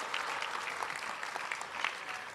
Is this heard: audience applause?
yes